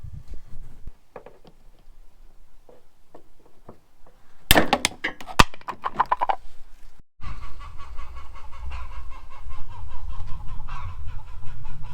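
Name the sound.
chickens clucking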